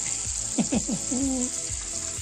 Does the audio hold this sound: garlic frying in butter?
yes